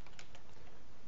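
Fingers tap quickly on a computer keyboard, entering a command for a game interface add-on: a short run of close, crisp key clicks over a steady hiss.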